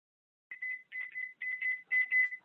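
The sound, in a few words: kitchen timer alarm going off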